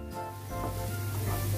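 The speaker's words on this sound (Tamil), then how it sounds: "வெங்காயம் நல்லா வதங்கட்டும்." Steady sizzling of chopped onions frying in hot oil, a continuous close crackle with no talking.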